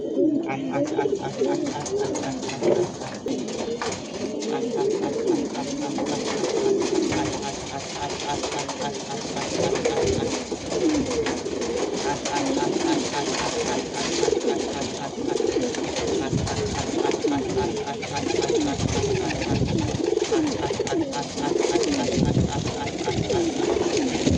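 Pigeons coo steadily in a low, throaty chorus, with many birds overlapping continuously up close and a faint voice now and then underneath.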